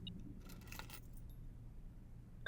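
Car keys jangle in the Blue Prince video game as a short, bright metallic rattle of a few clinks over a low steady background hum, with no talking.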